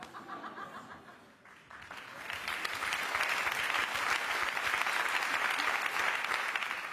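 At a stand-up comedy show at the Olympia, faint voices and chuckles give way after a brief lull to a swelling burst of audience applause that builds and stays loud and dense to the end.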